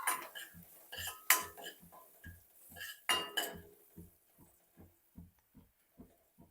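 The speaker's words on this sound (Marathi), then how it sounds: "मिश्रणाला चांगलं एकजीव करून घ्यायचं" A spoon stirs a moong soup mixture with hing and chopped garlic in a pot, giving a steady series of soft knocks and scrapes against the metal, close and fairly quiet, with a few brighter clinks early on.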